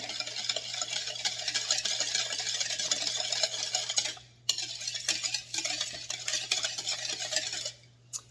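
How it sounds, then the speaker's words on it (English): A spoon stirs a cup of sugar into hot muscadine juice in a pot, a continuous close scraping and swishing that stops briefly twice before resuming. "I'm going to stir this and get it to melting away."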